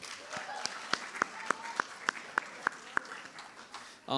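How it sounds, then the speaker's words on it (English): Scattered, sparse clapping from student athletes at a spring sports varsity awards event, a handful of distinct claps spaced evenly over a few seconds, fairly faint in a quiet room. "So give yourselves a round of applause for a great season."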